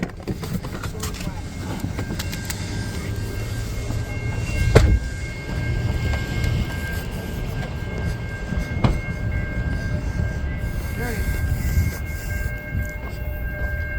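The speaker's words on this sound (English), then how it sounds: "Sounds like we got the gates dropping" A train rolls through a railroad crossing as the gates come down, a steady rumble of rail cars with faint warning tones holding throughout, near and continuous, with a brief louder clank partway through.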